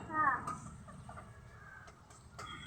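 Chickens clucking in cages on a small farm that also keeps quail, a short loud cluck near the start followed by fainter scattered clucks and rustling over a quiet background.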